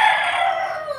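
A rooster crows in one long, drawn-out call on a small backyard poultry plot, loud and close, with the hens kept there around it and no talk.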